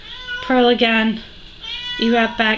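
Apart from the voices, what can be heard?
cat meowing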